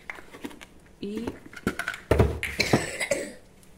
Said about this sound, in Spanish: Mi chanchito tiene tanta tos.